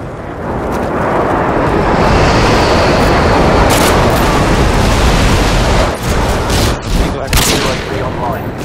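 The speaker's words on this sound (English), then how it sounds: "Friendly airstrike inbound." Airstrike explosions and gunfire in a favela team deathmatch video game form a dense, loud, continuous roar of blasts and shots, with brief voice fragments heard under the din.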